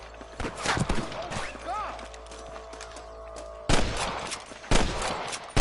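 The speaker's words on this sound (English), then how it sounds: "I can hear more gunshots." Gunfire in the video game Red Dead Redemption, with bursts of shots and thuds mixed with other game effects, a lull in the middle, then loud volleys near the end.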